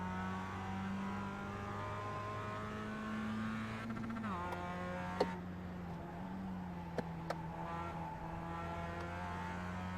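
Mazda MX-5 Cup race car at Summit Point Jefferson Circuit, the engine holding a steady drone that dips briefly at a shift and then climbs again as it accelerates back on throttle, heard continuously from inside the car with a few small knocks.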